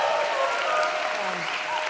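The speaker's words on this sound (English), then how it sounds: "it deserves a huge round of applause" An audience applauds loudly at a poetry slam final, a full, sustained burst of clapping that fills the short clip evenly from start to end.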